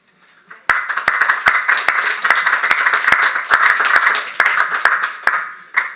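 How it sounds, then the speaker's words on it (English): An audience at a Labour gathering on Brexit applauds after a speech. The dense, vigorous clapping starts abruptly after a quiet moment, holds loud and steady, then thins out near the end. "Stephen Kinnock, who applauded vigorously there"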